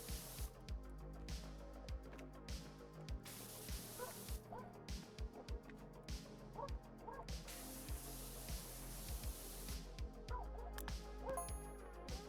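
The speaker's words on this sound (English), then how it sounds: "I'm hearing dogs barking." Dogs bark in the background music of Powerwash Simulator 2, sharp repeated yips recurring every second or so over a steady musical bed, fairly distant and moderate in level, with brief bursts of broadband spray noise.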